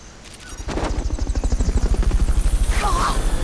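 A helicopter in Metal Gear Solid: Peace Walker spins up with a steady, loud rotor chop that grows in strength and then holds a rapid, even pulse.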